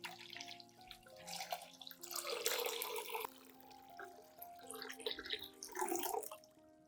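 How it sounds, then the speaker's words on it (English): One liter of room-temperature clean water is poured into an onion solution, a steady splashing, gurgling stream with a rising tone as the container fills, fairly quiet and close. "Add 1 liter of room temperature clean water to dilute the solution."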